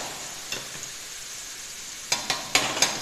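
Chopped carrot hits a hot pan in a hot and sour soup, giving a soft steady sizzle with several sharp crackling bursts and stirring scrapes near the end.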